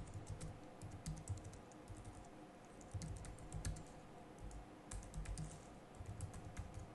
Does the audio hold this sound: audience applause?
no